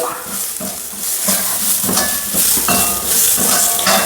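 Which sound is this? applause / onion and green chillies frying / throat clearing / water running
onion and green chillies frying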